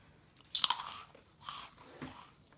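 Crisp homemade meringue bitten and crunched close to the mic, a sharp loud crack followed by two softer crunching chews fading out.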